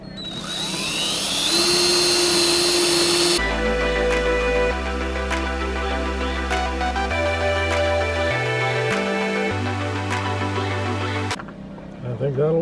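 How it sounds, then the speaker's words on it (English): A power drill bores pilot holes in plywood for the bolts that hold down a kitchen sink in a van build, whining loudly in several steady passes of changing pitch before stopping. "drilling the pilot holes for the bolts to hold the sink down"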